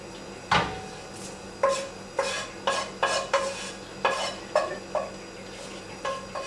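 A spoon stirs fried peppers, cooked in oil, into crushed tomatoes for Moroccan matbucha, giving a series of about ten close scraping, clattering strokes against the pot in an uneven rhythm, with no talk.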